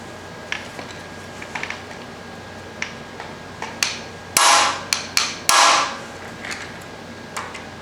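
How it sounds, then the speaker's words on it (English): On a John Deere 212 lawn tractor, a hammer strikes to break a bolt loose: scattered light taps lead into several sharp, loud metallic whacks in the middle, followed by a few softer hits. "hold in on it and give it a good whack. And it's supposed to break the bolt loose."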